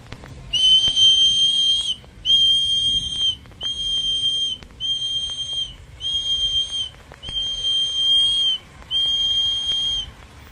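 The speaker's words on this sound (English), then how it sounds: "I think blowing that whistle is going to do a lot." A whistle is blown repeatedly, seven shrill sustained blasts of roughly a second each with short gaps between them, loud and close over faint background noise.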